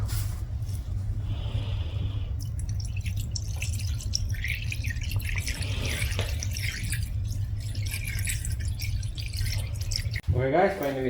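Coolant is poured into a Mazda 323 Protege during a thermostat replacement, a steady trickling, gurgling liquid flow with drips and some clinking, heard close up under a low background hum.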